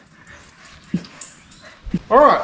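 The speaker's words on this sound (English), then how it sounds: "Oh, 2 brown dogs." Two brown dogs whimper close by with a short, high, wavering whine near the end, after a couple of soft thumps, while a person speaks briefly.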